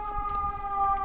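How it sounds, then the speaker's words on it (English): A loud emergency vehicle siren wails steadily and close by, its sustained tones filling the whole second with no speech over it. "sorry if that siren's kind of loud"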